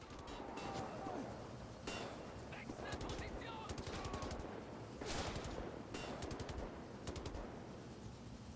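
Rapid automatic gunfire from the Wolfenstein video game, coming in repeated bursts of tight, fast shots separated by short pauses over a constant busy game background.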